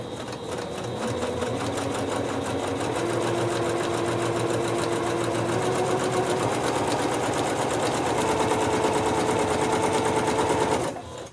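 A sewing machine set to straight stitch runs steadily on a fabric table runner, a fast, continuous mechanical whir with a rapid even rhythm, loud and close, stopping abruptly near the end.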